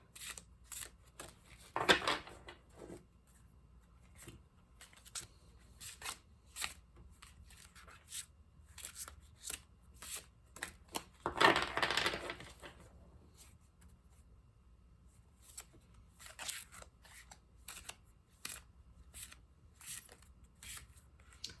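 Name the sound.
riffle shuffling tarot cards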